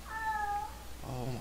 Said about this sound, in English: I'm gonna kill that cat, I swear to god.